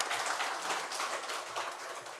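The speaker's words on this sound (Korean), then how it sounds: "우리 하나님께 영광의 박수 올려드리겠습니다" A church congregation applauds together during a Sunday worship service, giving a steady, dense wash of many hands clapping at moderate volume with no voices over it.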